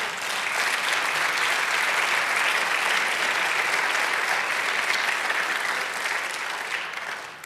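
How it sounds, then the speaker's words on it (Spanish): A church congregation applauds the Lord during a Spanish-language sermon, a dense, steady wash of many hands clapping that holds loud and even throughout, easing slightly at the very end. "Dale un aplauso al Señor"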